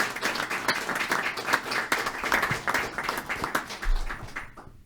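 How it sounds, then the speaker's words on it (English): Applause for a group of youth baseball players at a city council meeting: a dense crowd clapping steadily for about five seconds, then fading out at the end. "we need to give these fellows a round of applause"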